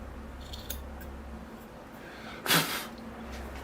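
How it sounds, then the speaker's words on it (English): Scissors pruning moss on a bonsai in a pot give a single crisp snip partway through, close and fairly loud over a low steady background hum. "I'll prune this moss out the front back a bit."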